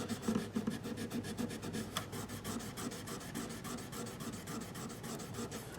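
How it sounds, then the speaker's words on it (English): Folded 1000-grit sandpaper rubs back and forth over electric guitar frets in steady, quick, close rasping strokes, with no one speaking. "I've been using a little 1000 grit sandpaper that I just fold up"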